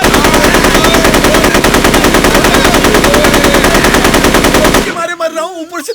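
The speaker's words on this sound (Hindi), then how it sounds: "ऊपर से तुम लोग गोली चला रहे हो" Loud, rapid automatic gunfire in a Hindi-dubbed South Indian action film rattles continuously for several seconds, then stops abruptly, leaving a voice speaking briefly afterward.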